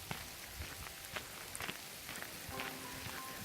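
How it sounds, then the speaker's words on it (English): Tiny hail falls outdoors on a cold day, faint scattered ticks and patters landing irregularly at close range over a soft hiss. "It's hailing. It's very, very tiny little hail."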